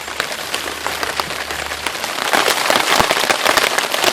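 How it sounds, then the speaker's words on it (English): Steady heavy rain pattering densely on a surface, a constant hiss with scattered louder drops, growing slightly louder toward the end. "Okay, so it's raining a lot."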